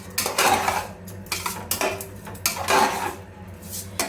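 A spoon scraping and clanking against a metal pot while rice is mixed with salt for meal maker kushka, a few loud close scrapes in uneven bursts.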